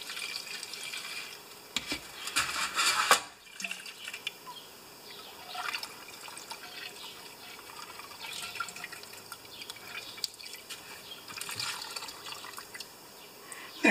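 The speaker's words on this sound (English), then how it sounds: "There, that tank's been rinsed" Clean gasoline sloshes and drips inside the fuel tank of an older Toro lawn mower, a soft, close liquid splash followed by intermittent trickles and drips.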